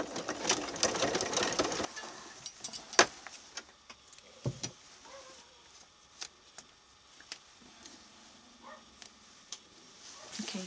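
A sewing machine basting pinned fabric runs in a fast, dense whir for about two seconds, then falls into sparse clicks and taps as the fabric is handled.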